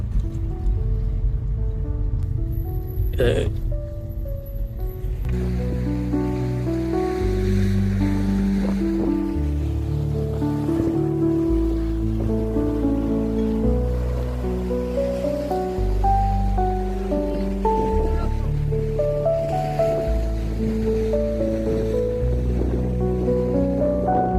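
Sea waves wash in at a holiday beach, a broad rushing surf mixed with wind noise, clearest alone at first, then continuing beneath loud instrumental music for most of the stretch.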